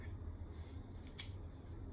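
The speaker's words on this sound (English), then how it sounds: "I'm going to cut the seam at the top here" Dull household scissors snip through the cotton seam of a shirt during a craft project, a few short crisp cuts close by over low room hum.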